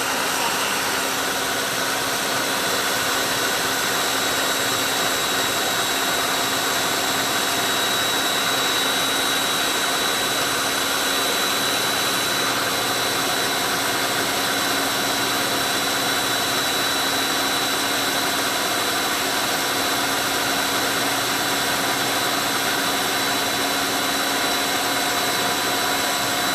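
A food processor whirs continuously while blending garlic hummus, a loud steady motor drone with a constant pitch that runs throughout without any talking.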